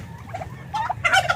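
Turkeys gobble in short rattling bursts close by, rising in loudness toward the end, with no talking.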